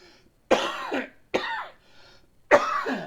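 Three harsh, throaty coughs from one person nearby, spaced about a second apart, with quiet in between.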